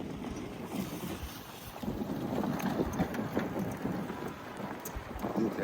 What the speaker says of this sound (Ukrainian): Ви е, бачите, який вітер? І так жорстко аж задуває.